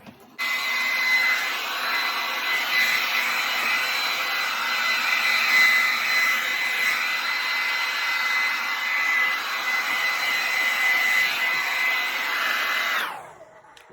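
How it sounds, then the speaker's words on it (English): A hair dryer switches on and blows continuously with a steady high-pitched whine and airy rush, close by, then shuts off near the end. "My blow dryer would work."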